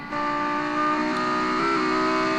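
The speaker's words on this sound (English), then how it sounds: "Luckily the car is kind of loud, so hopefully that'll drown out any noise." A race car engine drones loudly and steadily close by, its pitch stepping up slightly a couple of times as it revs, with no voices.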